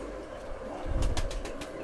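Deoband langot and titre pigeons cooing softly nearby, a few low throaty coos with a brief flutter of wings, no voices.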